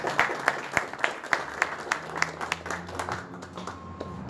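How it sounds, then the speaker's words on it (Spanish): Audience applause for a speaker at a ceremony honouring Víctor Andrés Belaúnde in Arequipa, heard as steady crowd clapping with distinct louder claps standing out, sustained throughout without talk. "Los aplausos para él."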